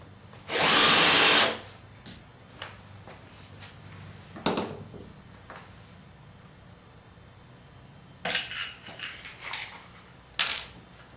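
Small number 4 flathead screws about 3/8 inch long being driven into a wooden Longworth chuck with a power drill, one long close whir followed by several short bursts and spurts of driving.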